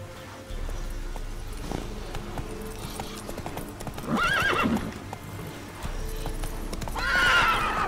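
Horse hooves clip-clopping at a steady pace in The Witcher 3, with two loud whinnies breaking through the close, continuous hoofbeats.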